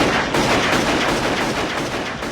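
Rapid gunfire from the film Pulp Fiction, loud dense shots packed together in a continuous burst, close and harsh with no talking.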